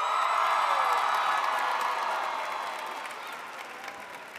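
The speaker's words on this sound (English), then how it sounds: "you owe yourself a round of applause" A crowd at a high school graduation ceremony applauding and cheering, a dense sustained wash of clapping with scattered whoops that slowly fades over a few seconds.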